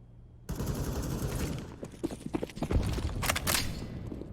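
Grenade explosion in Counter-Strike: Global Offensive on the Mirage map, a sudden burst followed by a rapid, crackling volley of gunfire and sharp impacts, moderately loud within a busy match.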